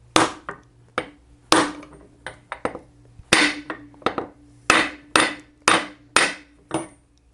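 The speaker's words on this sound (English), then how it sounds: "we'll take my new rawhide mallet" Rawhide mallet pounding a new cam bearing into place on an Evo motor, a dozen or so sharp, close blows in uneven bursts, some in quick pairs, each ringing briefly before the next.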